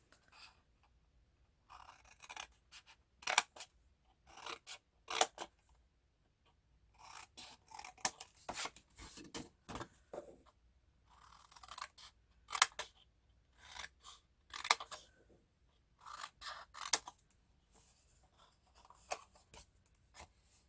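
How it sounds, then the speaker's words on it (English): Scissors cut through paper to shape the bottom of a handmade gift box. Close, crisp snips come in quick repeated bursts separated by short pauses, with no talking. "I'm going to make my box bottom by cutting up on both sides of this"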